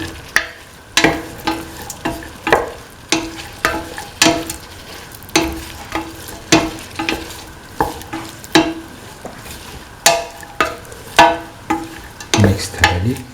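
Beef stew with coconut milk and green peas being stirred in a pot, a steady run of loud, rhythmic spoon scrapes and clanks repeating about once a second over a soft simmer, with no one speaking.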